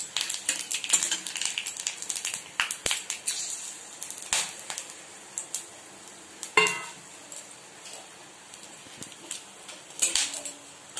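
Whole spices, bay leaf and dried chilli frying in hot oil in a pan, heard as a soft sizzle with sharp pops and scattered clinks of a spoon or utensil against the pan.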